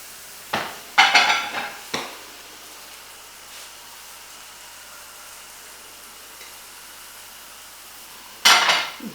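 Pots and utensils clatter while yeast pancakes fry in heated pans: a few sharp metallic knocks and scrapes near the start, a quiet stretch with faint sizzling in between, and another clatter at the end.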